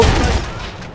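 A water-cooled machine gun fires in the World War I shooter Battlefield 1, a loud, close burst of gunfire whose echo rolls off and fades within a second.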